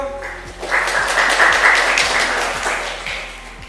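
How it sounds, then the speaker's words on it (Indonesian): Classroom applause for a student, a few seconds of clapping from a small group swelling quickly and then tapering, close and fairly loud, with a faint repeated ticking underneath. "Beri aplaus dulu dong buat Satrio"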